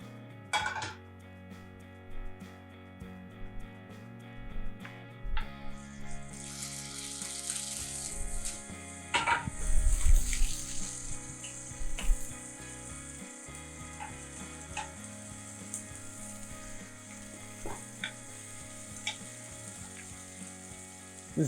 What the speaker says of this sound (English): So let's fry up our sardines.